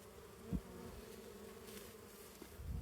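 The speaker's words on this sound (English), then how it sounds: "So yeah, I'm not afraid of bees. They're all around me." Honey bees buzzing nearby in a soft, steady drone, with individual insects swelling louder as they pass close to the microphone.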